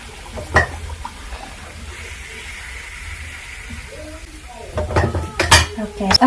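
Fried cinnamon rolls lifted out of hot oil with a utensil, giving clinks and scrapes against a metal pan over a faint sizzle, with sharper clatters toward the end.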